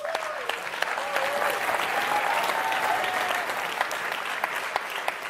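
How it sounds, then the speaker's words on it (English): Loud, sustained applause from a crowd at a European political gathering, dense clapping with some cheering and shouts mixed in, continuous throughout. "So give a cheer for Zita,"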